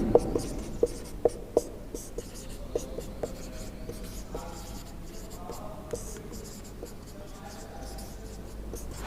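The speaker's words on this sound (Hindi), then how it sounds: "मैं सीधा एक नोटिस का क्वेश्चन लिखता हूं" Pen scratching on paper while writing out a notice-writing exam answer, a quiet continuous scrawl with a few sharp taps and strokes near the start, close and alone with faint room noise.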